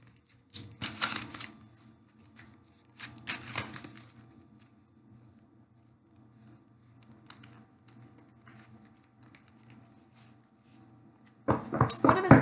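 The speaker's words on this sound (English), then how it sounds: "Let's pull from my Isis deck. One second, let me shuffle these." A deck of Isis oracle cards is shuffled by hand, three short, close bursts of riffling and flicking separated by long quiet gaps, the last burst the loudest.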